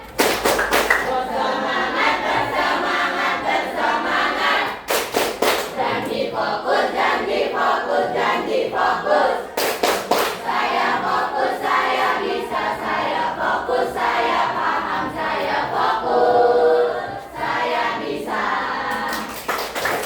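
Classroom of children doing a rhythmic clapping chant, sharp group claps in repeated patterns with chanted voices throughout, loud and close, pausing briefly between rounds.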